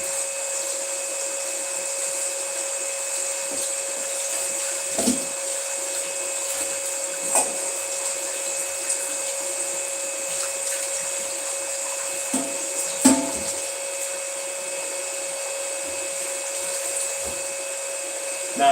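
A home oil press machine runs steadily with a continuous motor whine and hum, holding even loudness throughout with a few faint clicks and knocks over the top.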